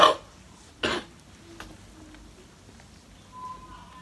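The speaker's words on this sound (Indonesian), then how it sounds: "Jadi aku batuk terus" A person coughs indoors: two short, sharp coughs about a second apart, close to the microphone, followed by quiet room noise.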